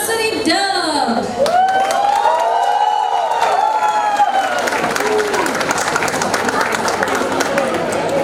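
Loud applause and cheering from a crowd of parents at a school annual day celebration, welcoming a nursery class performance; the clapping stays steady throughout, with a voice speaking and music tones over it early on.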